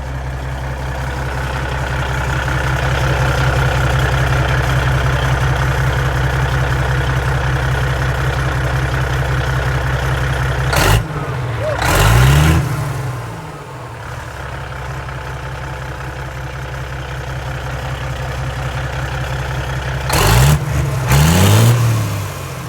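A Peterbilt pull truck's diesel engine, fitted with a large billet turbo, idles with a deep rumble, then revs sharply twice, around the middle and again near the end, each burst rising and falling quickly, loud and close with no talking.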